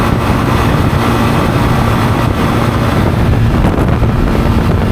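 Loud, constant wind roar buffeting the microphone while riding a Zontes ZT350-T motorcycle at about 70, with a low engine drone near 7,000 RPM underneath, steady throughout.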